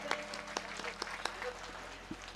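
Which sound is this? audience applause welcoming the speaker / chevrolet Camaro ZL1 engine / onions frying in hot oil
audience applause welcoming the speaker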